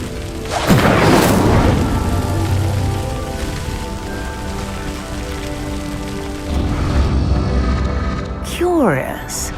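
Fire spell cast on a stone pyre in Hogwarts Legacy, a loud whooshing burst of flame followed by a low rumbling as the pyre sinks, then a fainter second rumble and a brief chiming swirl at the end.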